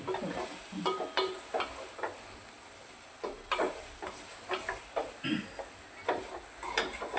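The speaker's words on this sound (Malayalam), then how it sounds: "എന്നിട്ട് ഒന്ന് മിക്സ് ചെയ്ത്" Soya chunks masala stirred in a pan, with a steady run of close spoon scrapes and clacks over a soft sizzle, no talking.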